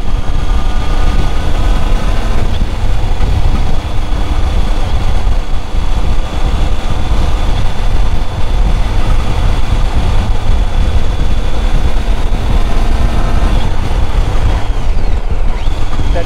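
A Triumph Tiger 800 motorcycle descends the Pajares mountain pass, its engine a loud, continuous drone heavily mixed with rushing wind noise throughout, with no pauses.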